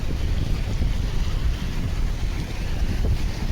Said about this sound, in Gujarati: અહીંયા આવી તમે જોઈ શકો છો કેટલું પાણી જઈ રહ્યું છે, કેટલો પ્રેશર છે.